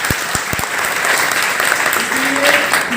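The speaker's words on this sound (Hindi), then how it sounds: "तो एक बार सर जी के सम्मान में ताली बजाएंगे।" Applause from a school audience honouring a guest at a magic show, a few sharp claps at first and then sustained dense clapping, loud and near.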